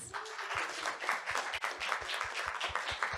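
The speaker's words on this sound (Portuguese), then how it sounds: "esses caras merecem uma salva de palmas" Audience applause for panel guests at an advertising conference in Brazil, a dense steady patter of many hands sustained for the whole stretch over a faint low rhythmic thump.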